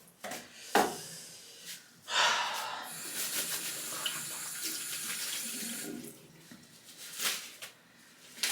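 Shower water running in a home bathroom, a steady broadband hiss of spray that swells in the middle stretch, with brief knocks and splashes around it and no talking.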